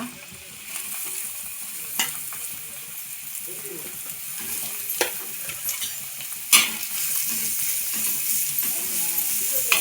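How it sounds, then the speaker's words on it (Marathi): Garlic and onion sizzle steadily in hot oil in a pan, with occasional sharp clinks of a spoon or spatula against the pan and a constant frying hiss throughout. "तेल गरम झाला की त्याच्यात लसूण टाकूया लसूण कांदा"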